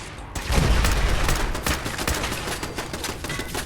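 Turrets in the video game Fallout 4 open fire in a dense burst of rapid gunshots that starts abruptly and rattles on loudly and continuously, close and overlapping, with no voices.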